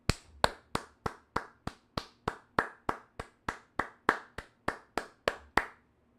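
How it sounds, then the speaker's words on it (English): About eighteen sharp, evenly spaced hand claps ring out one at a time in a slow, steady rhythm. They are close and fairly quiet, with no voices. "Round of applause for him, brand new member."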